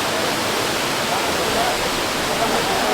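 Water pouring down a waterfall by a small iron footbridge in Uttarakhand: a loud, steady, broadband rush, close and unbroken throughout.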